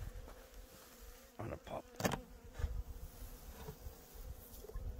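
Honeybees buzz steadily around a hive set on a bee truck outdoors, a continuous close hum with a few louder bursts as individual bees pass near, while someone speaks briefly over it.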